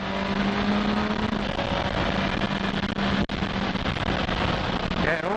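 A Kawasaki motorcycle with auto blip downshifts through the gears. Its engine is loud and steady throughout, with a brief dip partway through as a gear changes.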